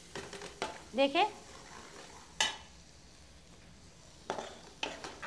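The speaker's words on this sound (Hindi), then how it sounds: "इसको भी मसाले को भी अच्छा भून ले रही हूँ" Masala spices roasting and being stirred in a pan for a Hyderabadi chicken methi dish, with a few scraping clinks of a spoon against the pan between short bursts of someone talking nearby.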